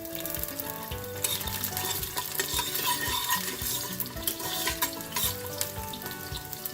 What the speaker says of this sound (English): So once the oil is hot, we're gonna start by adding the garlic cloves.